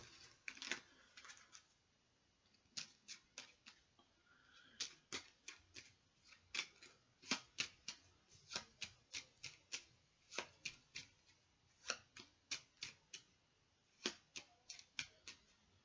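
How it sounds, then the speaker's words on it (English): A deck of cards is shuffled by hand at a tabletop card-game tournament, giving repeated sharp riffling bursts in an irregular rhythm, close and clear, with no talking. "Then I'm going to shuffle this deck again."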